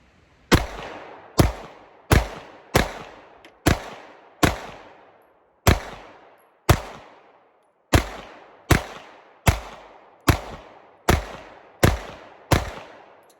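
A Wilson Combat EDC X9 pistol fires fifteen rounds at a range, each sharp, loud shot ringing out alone at a steady, unhurried pace with brief pauses between.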